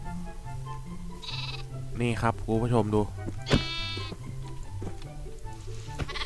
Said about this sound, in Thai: นี่ฮะเป็นแกะสายฟ้านะครับ